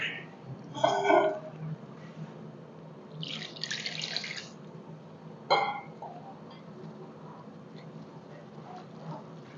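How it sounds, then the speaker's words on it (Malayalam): Water splashes into a bowl of snack batter in a few short bursts, with quiet stirring and a low room hum between the pours. "അല്പം കൂടെ വെള്ളം ഒഴിക്കാമേ"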